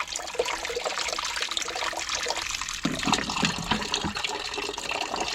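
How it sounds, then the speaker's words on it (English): Water rushes and gurgles steadily from a home water heater's drain valve after a clog is cleared, a continuous splashing flow that grows fuller partway through, with no talk. "now it's finally draining pretty well"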